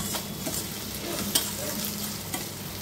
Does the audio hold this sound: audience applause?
no